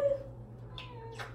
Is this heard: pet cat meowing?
yes